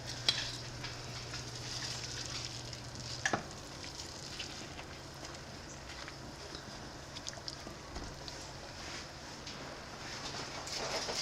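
Pho broth simmering in a pot, a steady soft bubbling sizzle running evenly throughout with a few faint clicks and clinks, no voices.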